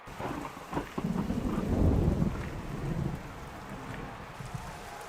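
Rain and thunder in a football video game: a heavy rain hiss with a deep rolling thunder rumble swelling and fading over a few seconds, no voices.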